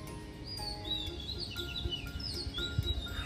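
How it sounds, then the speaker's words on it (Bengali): Several birds chirp and whistle at dawn after sunrise prayers in rural Bangladesh, with repeated thin, high tweets and trills at a moderate distance over a quiet background. "কি সুন্দর পাখির ডাক"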